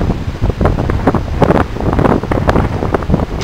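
Strong gusty wind blows outdoors, roaring and buffeting the microphone continuously for the whole span, loud and close, with no speech.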